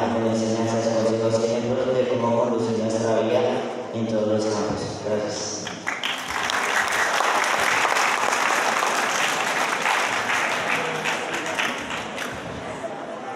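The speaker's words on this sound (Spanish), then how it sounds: "Un aplauso para ellos." Audience applause at a school symbols-handover ceremony breaks out midway, a loud dense burst of clapping that follows music and a spoken voice, then stays strong to the end.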